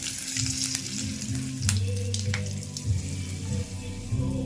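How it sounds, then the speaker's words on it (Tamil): Mustard seeds sizzle and crackle in hot oil, a continuous frying hiss with scattered sharp pops and a low hum beneath, tempering for chutney. "கொஞ்சம் போல் கடுகு போட்டு தாளிக்க போகிறேன்"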